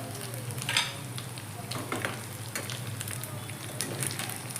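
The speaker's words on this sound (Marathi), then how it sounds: "चांगले भाजून घेणाऱ्या दोन्हीकडे दोन्ही बाजू चांगल्या भाजून घ्यायच्या हे आपले चांगले फ्राय झालेले आहेत" A breakfast snack shallow-fries in a pan, turned to brown both sides: a continuous soft sizzle with bubbling crackle and occasional scrape of a spatula, fairly quiet and steady, no talking.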